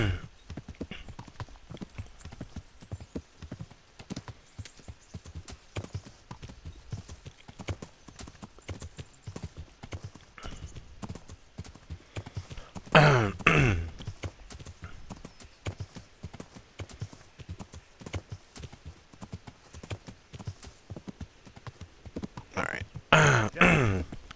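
A horse in the video game Kingdom Come Deliverance gives a steady clip-clop of hooves throughout, with two loud, rough whinnies rising above the hoofbeats near the middle and again at the end, while a voice talks faintly now and then.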